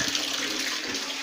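Hot water pours steadily from a tap into a bathtub, a close, continuous broadband rush and splash that holds level throughout with no voices over it.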